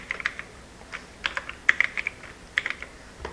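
Light, scattered typing on a computer keyboard as a name is entered on a Windows 11 settings screen, soft clicks in short bursts with pauses between.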